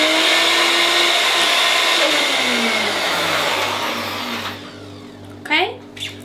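A blender whirs through beetroot and orange juice, a loud steady motor whine that slowly drops in pitch before cutting out, leaving brief clatter and faint background noise.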